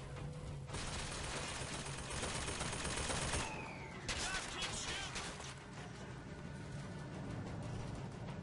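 Sustained automatic gunfire in the first-person shooter Bioshock Infinite, a dense continuous rattle with a brief gap midway before the shooting resumes, steady and loud throughout.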